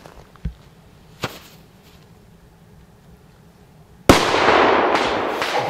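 Two small sharp pops from a firework's lead fuse come early, then a firecracker bangs loud and close, its burst followed by a crackling, hissing tail.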